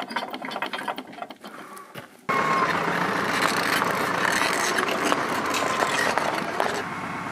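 Ratchet pulley on an off-grid log cabin build, clicking in a steady stream while a log is hauled, under a continuous mechanical drone that starts abruptly after a quieter opening.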